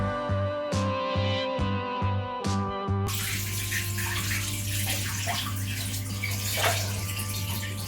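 Water gushes steadily into a planted aquarium tank freshly set up with soil and wood, a continuous close rushing fill with no talk, preceded by a few seconds of a rhythmic mechanical hum.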